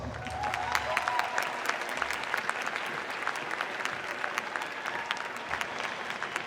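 Sustained audience applause fills a diploma and awards ceremony hall, a dense steady patter of many hands clapping from start to finish with no break.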